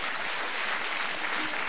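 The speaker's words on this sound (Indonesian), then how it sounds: "tepuk tangan nih buat Pak Suparto" An audience claps for Pak Suparto, the tailor who has sewn about a hundred garments for President Jokowi. A dense, steady wash of many hands clapping fills the whole short moment, with no gaps.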